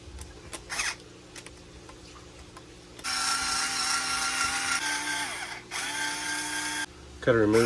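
A power driver backs screws out of the steering rack on an Arrma Kraton EXB RC car, giving two whirring bursts of a second or so each, close and loud, after a few light clicks.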